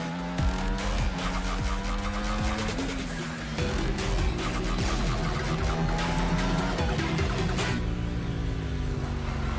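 Racing engines roar continuously in a video game race, rising and falling in pitch as gears shift, with tires squealing and skidding throughout, loud and close, no talking over it.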